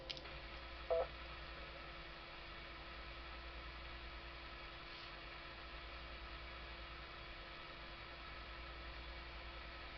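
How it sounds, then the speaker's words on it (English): A ham radio repeater's carrier hangs on as a steady, faint hiss and hum after a transmission, with a brief click near the start and no voices. "That repeater takes too long to drop out."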